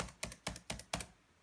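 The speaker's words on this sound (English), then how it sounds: "when we tap shift 5 times in a row" Five quick, evenly spaced taps on a computer keyboard's shift key sound close and clear in a quiet room, each a sharp click with a short clatter.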